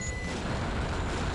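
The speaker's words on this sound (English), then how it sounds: "What I need is a mod that stops all the beeping" Steady electronic beeping plays while Tails is on screen in the Sonic Adventure 2 video game. It is a short, even burst under a constant wash of game noise, with no talking.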